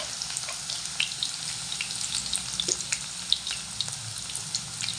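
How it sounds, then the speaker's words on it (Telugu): Onions and green chilies fry in hot oil for a cabbage curry, giving a steady close sizzle dotted with small crackles and pops throughout, with no talking. "ఆయిల్ వేడైందండి, ఉల్లిపాయలు వేసేసుకుంటున్నాను."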